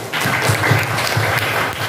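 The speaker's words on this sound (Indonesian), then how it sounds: "Oke, tepuk tangan dulu." Workshop participants clap their hands in a short, continuous round of applause, many overlapping claps heard close up in an indoor room.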